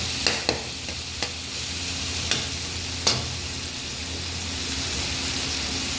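Chicken cooking in a pan for pancit bihon, a soft steady sizzle with several sharp clinks of a utensil stirring against the pan, heard alone and fairly close.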